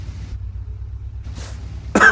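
A single short cough from a sick person bursts out near the end, close and fairly loud, after a quiet stretch with a low steady hum and a brief hiss.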